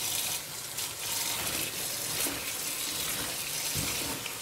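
Water running steadily from a tap, a constant close splashing hiss with no pauses.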